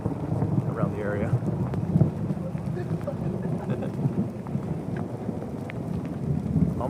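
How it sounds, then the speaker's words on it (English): Thunderstorm lingering over a paved trail at Pinnacle Mountain State Park, Arkansas: a continuous low rumble of distant thunder with steady rain-like hiss and wind noise throughout. "You can hear there's still some storming around the area."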